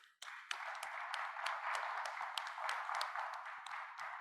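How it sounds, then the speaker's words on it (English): An audience at the World BioEconomy Forum 2021 breaks into applause for a conference panel: steady, fairly dense clapping that starts abruptly and carries on for several seconds, heard at a distance. "I would ask you to join me to applaud this panel."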